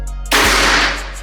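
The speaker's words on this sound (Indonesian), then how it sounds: "Kita coba tembakan berikutnya." A single loud, sharp report from an SR Legacy 700cc PCP air rifle fired without a silencer, filled to 2500, striking hard and then decaying over about a second.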